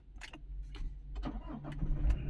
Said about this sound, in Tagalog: Tapakan na yung preno tsaka start